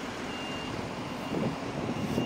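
A van's reversing alarm beeps steadily somewhere in the middle distance in a Glasgow street, mostly under heavy traffic rumble with buses passing. The tone repeats at a regular pace and is fairly faint against the busy road noise.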